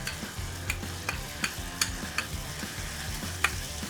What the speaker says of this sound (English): The garlic's toasting in there